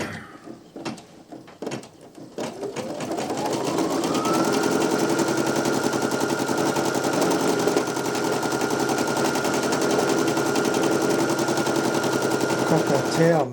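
Two Brother embroidery machines stitch the same design side by side, starting with a few sharp clacks, then spinning up into a steady, rapid mechanical rattle that holds evenly and close.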